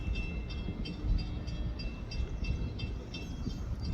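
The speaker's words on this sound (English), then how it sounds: "Now they got both locomotives hooked back up together, and they're gonna shove this" Two coupled GP38 locomotives shove a load of iron, giving a steady low diesel rumble with faint rhythmic clanking from the rail cars, fairly close and without voices.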